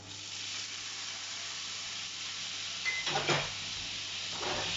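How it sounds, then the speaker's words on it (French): Cider vinegar hits a hot pan to deglaze it, giving a steady broadband sizzle and hiss with a brief louder burst of steam partway through, with no voices. "je vais déglacer avec un peu de vinaigre de cidre"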